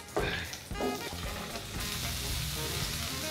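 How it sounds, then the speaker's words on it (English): Cauliflower pieces hit melted butter in a pan with a sudden sizzle, then a steady frying hiss as they are stirred, with a spoon knock or two. "once the butter is melted, I'm gonna throw in that cauliflower, give it a good stir"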